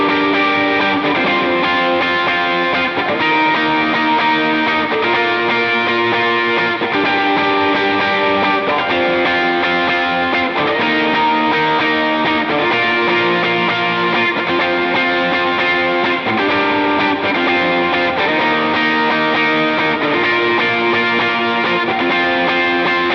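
Electric guitar lead playing Amazing Grace through distortion and effects, with a sustained, saturated melody over a continuous backing that stays loud and dense throughout, with no speech.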